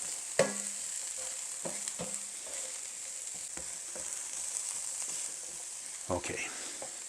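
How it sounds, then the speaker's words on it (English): Chopped onions sweat in a hot frying pan with a steady, fairly quiet sizzle throughout, broken by several sharp clinks and scrapes as a utensil stirs them. "I'm just going to put them in this hot frying pan"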